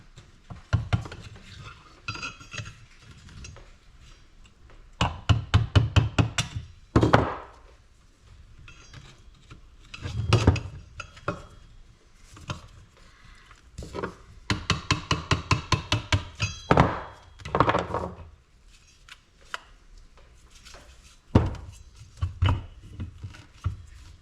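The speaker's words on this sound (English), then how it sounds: "I'm just going to pound this sucker out of the way" Metal hammer blows driving a broken bolt out of a Century-made pool pump, bursts of rapid clanking strikes separated by pauses and scraping, close and moderately loud with no talking.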